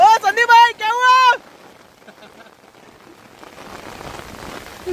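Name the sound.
heavy rain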